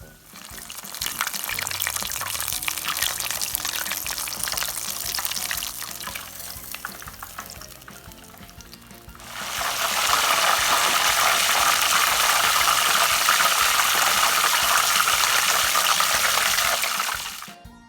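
Steady crackling sizzle of calzones frying in hot oil, growing noticeably louder and denser about halfway through, with no voices.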